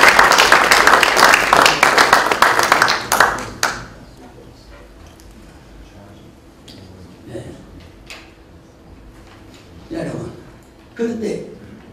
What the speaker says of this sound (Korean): 박수만 해드려요.